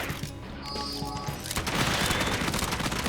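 Rapid gunfire in Raidou Remastered, a burst of sharp shots and crashing impacts that builds into dense, continuous fire over game music.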